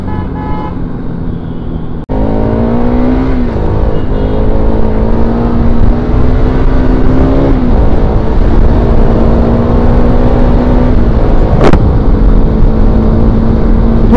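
A Pulsar RS200 motorcycle speeds up on the road. The engine note climbs in pitch, then holds a loud, close, steady drone, with a brief clunk early on and a sharp short chirp near the end.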